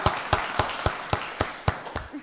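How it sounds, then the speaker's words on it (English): A few people at a county board of commissioners meeting clap sharply and sparsely, about eight distinct claps at a steady rhythm that fade toward the end. "Let's give her a round of applause, everybody."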